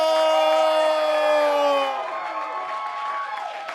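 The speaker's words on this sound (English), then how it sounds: "Give a round of applause to our referee," At an arm wrestling championship, a crowd cheers and whoops for the referee, with loud sustained voices at first that ease into lighter, scattered crowd noise.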